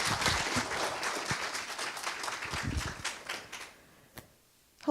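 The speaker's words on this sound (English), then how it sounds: "Big round of applause." A commencement audience claps for a speaker, a dense round of applause that thins out and fades away, leaving a couple of isolated sounds near the end.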